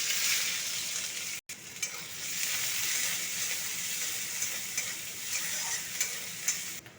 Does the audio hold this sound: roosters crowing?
no